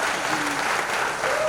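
A brief burst of audience applause at a tribute event, dense crowd clapping with faint voices mixed in underneath.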